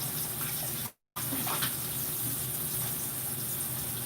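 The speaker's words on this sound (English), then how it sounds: "we're just shallow frying those." Pork chops shallow fry in hot oil with a steady crackling sizzle, continuous and fairly loud, with a brief dropout near the start.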